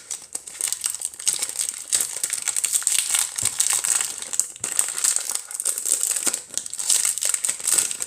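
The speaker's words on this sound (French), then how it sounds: "Le but c'est de déballer les cartes les gens." Foil wrapping of a Pokémon card booster pack crinkles and crackles continuously, close and loud, as it is torn open and unwrapped, with no voices.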